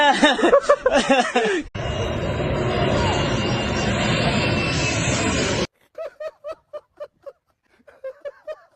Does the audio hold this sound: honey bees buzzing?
no